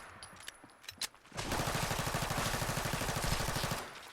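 A Glock P80 fires full-auto in Fallout 4, a rapid, dense burst of shots lasting a couple of seconds after a few scattered sharp clicks and knocks.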